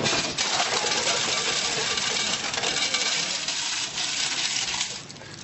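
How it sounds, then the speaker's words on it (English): Coins clatter continuously in a Penny Falls arcade coin-pusher machine, a dense, busy metallic rattle of many coins tumbling together, loud and close, easing off at the very end with no talk over it. "this is a Penny Falls machine without an alarm"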